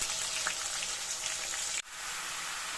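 Tomatoes and a little ginger paste fry in a pan for bottle-gourd curry, giving a loud, steady close sizzle that suddenly drops and then carries on a bit quieter.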